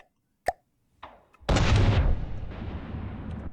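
Tank cannon in the game From the Depths firing shells: a sharp pop, a second smaller report, then a heavy booming blast with a long rumbling tail, loud and close with no talk.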